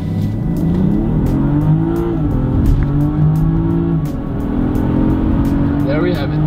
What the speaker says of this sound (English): Sport mode is engaged. Let's go for a 0 to 100.